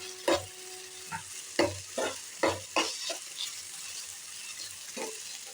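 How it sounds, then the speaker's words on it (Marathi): Potato pieces sauté in a hot pan, with a soft sizzle under repeated scraping stirs that come in uneven strokes, close and moderately loud. "चांगलं परतून घ्यायचं आहे."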